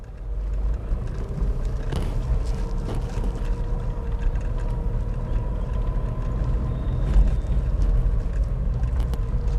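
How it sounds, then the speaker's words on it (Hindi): A car engine revs under the accelerator in a steady, rumbling drone, heard from inside the car with some wind noise and a few clicks, and no voices. "थोड़ी रेस भी दे रही हूँ।"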